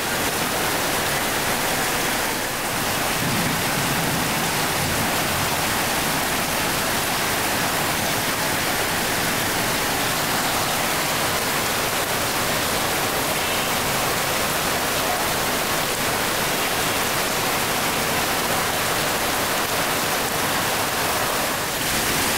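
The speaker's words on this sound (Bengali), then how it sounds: "অনেক জোরে বৃষ্টি" Heavy rain pours down over jungle in a steady, dense, loud wash of noise that never lets up, heard alone without any voices.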